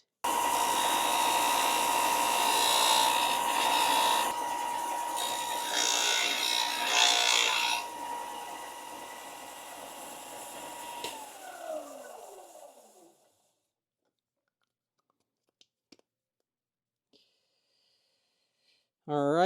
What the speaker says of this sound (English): now I'm just going to use the belt sander to kind of take it down to exactly where I want it